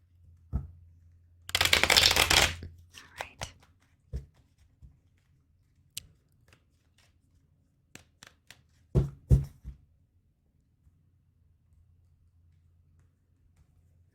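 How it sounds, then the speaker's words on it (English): A deck of tarot cards is riffled in a quick burst, followed by scattered taps and soft card handling, then a second short shuffle. "Let's get one more shuffle here."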